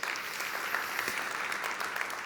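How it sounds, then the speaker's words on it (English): A short burst of steady audience applause after a startup pitch event, many hands clapping evenly at moderate volume for a couple of seconds. "A round of applause."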